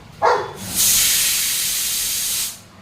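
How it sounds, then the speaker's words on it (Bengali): A pressure cooker boiling eggs vents a loud, steady rush of hissing steam for nearly two seconds before cutting off, preceded by a short sharp sound. "প্রেসার কুকারে সিটি পড়ে গেছে"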